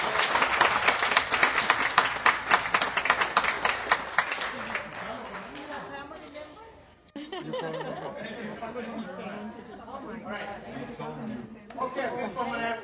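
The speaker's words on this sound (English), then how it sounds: "Give them a round of applause" A city council meeting audience breaks into dense, sustained applause. It tapers off midway, and then scattered clapping mixes with chatter and light laughter from the audience.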